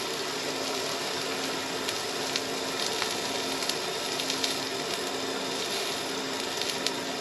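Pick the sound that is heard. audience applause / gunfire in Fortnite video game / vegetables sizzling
vegetables sizzling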